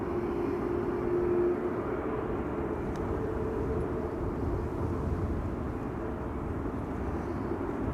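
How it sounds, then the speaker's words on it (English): Qatar Airways Airbus A330 arriving from Doha at Amsterdam Schiphol, a low steady distant jet engine drone with a faint humming tone early on, no voices. "Qatar Flight 273, arriving from Doha, slowly but surely making its way over"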